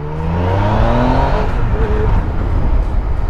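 A loud Yamaha MT-09 Tracer three-cylinder motorcycle engine revs up close, its pitch climbing steadily as it accelerates, then settling into a rough, sustained roar.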